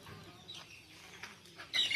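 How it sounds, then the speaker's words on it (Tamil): Garden chickens pecking at grass give soft, sparse clucks and chirps at a distance, ending in a louder burst of squawking. "எங்கள் தோட்டத்தில் கோழிகள்லாம் எவ்வளோ அழகாக புல் சாப்பிட்டுட்ருக்குன்னு பாருங்களேன்"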